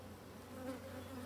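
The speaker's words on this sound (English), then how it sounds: "box is full of bees." An opened beehive box full of honey bees gives a dense, steady, low buzz, close and fairly quiet, with no talking.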